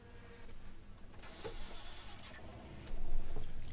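A four-cylinder race car engine in a racing video game revs and idles in short bursts, rising to a louder, harsher roar near the end.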